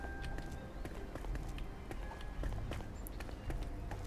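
Quick, light footsteps patter through a dungeon in the video game Portal Knights, a rapid run of faint taps over a low ambient hum, with no speech.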